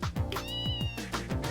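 Cat meowing in the Trails in the Sky video game, several short meows in quick succession over a steady background of game ambience and music.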